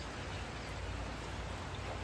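Steady rain falls around a farm barn, a dense, even hiss of drops on surfaces, soft and continuous with no other sounds.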